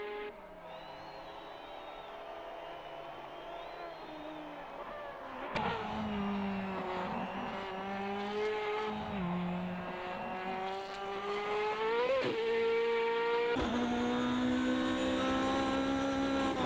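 A race car engine in a sim racing video game revs and shifts through gears, rising and falling pitch with abrupt cuts as the view changes, steady and fairly loud throughout.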